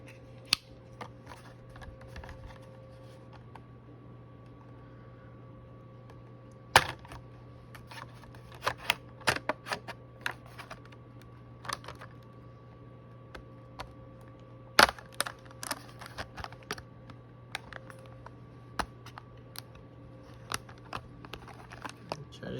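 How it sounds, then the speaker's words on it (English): A Hot Wheels Clip Rod package is unboxed in a quiet room. Sharp cardboard and plastic clicks, snips and rustles come in sporadic bursts over a faint steady hum. "Let's get into getting this unboxed."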